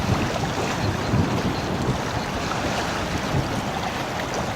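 Snoopy, a small sailboat, sailing close to the wind on Bray Lake, heard as dense steady wind rush and microphone buffeting over splashing water, with no talking.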